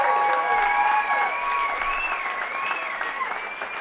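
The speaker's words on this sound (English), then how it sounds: "Give yourself a round of applause," Audience applause at a live podcast show, loud and sustained from start to finish with some cheering and whoops over the clapping.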